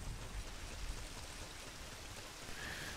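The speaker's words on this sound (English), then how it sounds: "And it rains here, okay." Steady rain falling in the video game Ocarina of Time, a constant soft broadband hiss with a low rumble, even and unbroken throughout.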